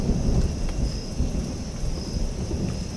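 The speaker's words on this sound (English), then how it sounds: "What is that noise? Was that thunder?" Thunder rumbles low and continuous through steady rain in the horror game Welcome to Hanwell, a loud rolling storm wash with no voices.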